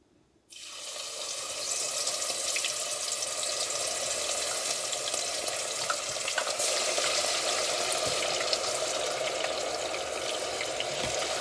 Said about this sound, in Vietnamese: Ở đây là cái nồi dầu đang chờ cho nó nóng lên rồi mình mới chiên.